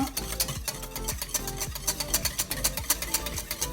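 Cake batter with sardine, gruyère and chorizo is mixed in a bowl, giving a steady run of rhythmic scraping and stirring strokes at close range, with no talking.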